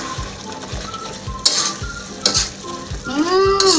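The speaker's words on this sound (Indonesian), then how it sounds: "Kita aduk lagi ya." Jengkol and anchovies fry in a pan for Betawi-style balado while a spoon stirs them, producing rhythmic scraping and clinks over a continuous sizzle, with sharp bursts of spatter near the middle and end.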